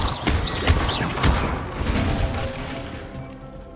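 Disarming Expelliarmus spell cast in combat in the video game Hogwarts Legacy, heard as a few sharp magical bursts and crackles in the first second, then a dense rolling rumble that slowly fades.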